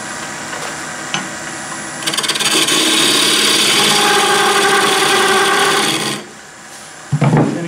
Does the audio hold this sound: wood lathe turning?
yes